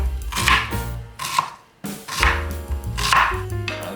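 A knife dicing onions on a cutting board, with close, fairly loud chopping in quick bursts and a short pause between them.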